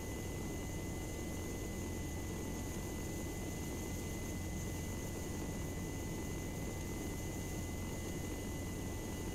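Helicopter engine drone in Arma 3, a steady broadband roar with a low rumbling hum, constant and fairly distant throughout, with no clear rise in pitch.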